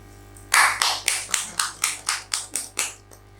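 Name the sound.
audience applause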